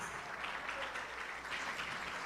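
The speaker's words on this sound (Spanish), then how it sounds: "damos palmas." A church congregation claps together during a Spanish-language worship service, a dense, even wash of applause that carries on throughout without pause.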